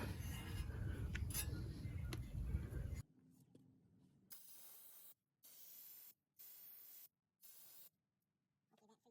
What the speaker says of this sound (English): just go ahead and spray your freeze off right here, all around.